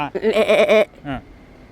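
A person's voice imitates a goat's bleat, one wavering, nasal call followed by a short second bleat.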